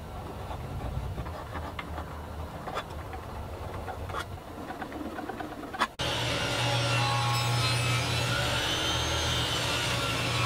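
Hand sawing through small wood blocks for bracing, a soft rhythmic rasping at first, then a louder, steady buzzing cut takes over partway through.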